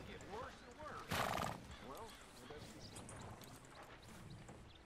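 A horse in Red Dead Redemption 2 lets out a loud, sharp whinny about a second in, with hoof clip-clops and game ambience around it and a voice talking over much of the scene.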